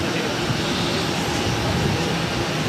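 Jet airliner engine roaring steadily at Boston Logan airport, a broad continuous rumble and hiss held throughout, loud and fairly close.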